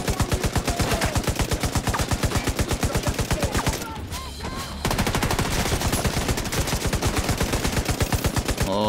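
Rapid automatic gunfire in the video game The Division 2, a dense, loud, steady stream of shots with a brief lull near the middle before the firing resumes.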